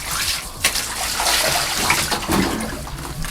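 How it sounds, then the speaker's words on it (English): Water from a kids' bath bomb, poured out after it finished fizzing, sloshes and splashes steadily at close range, with brief louder splashes and no talking. "So if I pour out the water, let me show you guys what happens."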